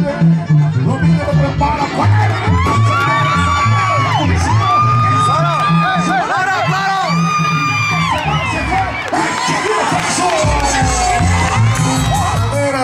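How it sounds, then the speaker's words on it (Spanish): A rodeo crowd at a Rancho El Aguaje event in Orosi, California roars with sustained cheering, whoops and shouts, loud and continuous throughout. "ahí está el aplauso del público"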